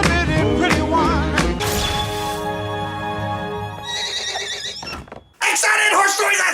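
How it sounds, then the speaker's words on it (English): Cartoon pony whinnies, a bright high neigh from a My Little Pony episode, heard up close over a layer of music and voices, followed by a brief drop to near silence and then loud sound again. "Oh, we got a horse noise!"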